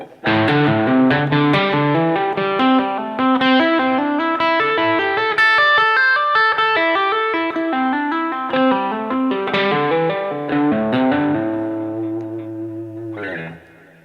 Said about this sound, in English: the lick looks and sounds like this